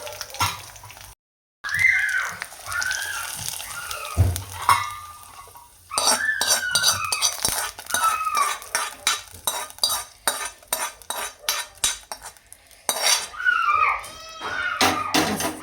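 A hot tempering of oil and curry leaves is tipped into coconut green chutney and stirred, giving a brief sizzle followed by repeated spoon scrapes and clinks against the bowl in an uneven rhythm.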